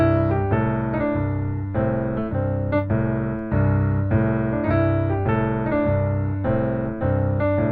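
Piano plays a repeating blues pattern, chords struck in a steady rhythm with a note sliding up from the flat third to the major third, loud and alone.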